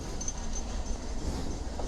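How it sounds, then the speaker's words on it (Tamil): Ooty toy train on the Nilgiri mountain railway rolling past, a steady low rumble of wheels and carriages filling the whole moment without clear clatter beats. "இதோ இங்கே வருது பாருங்கள் ட்ரெயினு."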